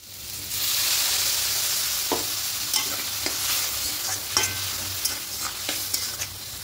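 Bitter gourd and potato frying in a pan as water from a mixer jar is poured in, producing a loud, steady sizzle with scattered stirring clicks and scrapes, no talking.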